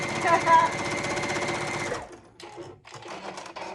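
Domestic sewing machine stitching fabric, a fast steady mechanical whir for about two seconds before it stops, leaving quieter handling noises close by.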